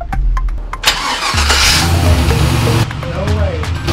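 An LS-swapped 4x4 short bus cranks and fires up before its first test ride: a rough starter whir and catch, then a steady, loud rumbling idle close by, with people talking over it.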